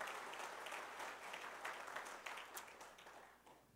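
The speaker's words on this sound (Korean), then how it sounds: "임성수 선생님 일어나서 인사하실 때 우리 크게 박수로 축복해 주시기 바랍니다" A church congregation claps together at a Sunday worship service in a Korean Full Gospel church, with dense, steady applause held at an even level throughout before it starts to thin near the end.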